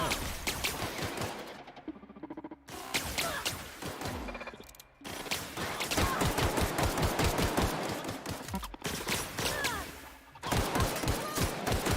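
Rapid gunfire bursts from The Outer Worlds come in repeated volleys with short pauses, loud and close, with a voice talking at times over the shooting.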